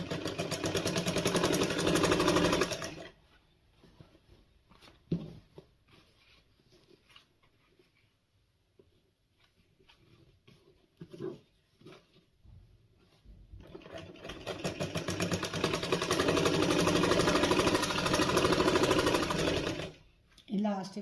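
A sewing machine stitches elastic onto palazzo trousers, its fast mechanical whir running in two long bursts at start and end, with someone talking quietly in the pause between.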